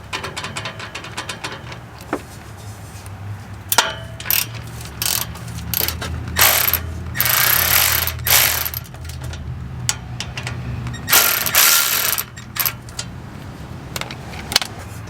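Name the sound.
ratchet with 14 mm socket loosening Mustang exhaust clamp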